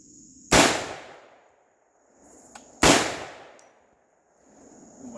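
Two loud, close rifle shots from a .458 SOCOM during outdoor test firing, a couple of seconds apart, each a sharp blast with a long echoing tail and no voices.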